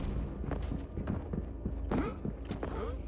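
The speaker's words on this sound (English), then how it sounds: "I heard footsteps." Footsteps in the arena shooter Quake Champions, a quick series of soft, thudding steps fairly close by, mixed with faint game sounds and a short whooshing burst.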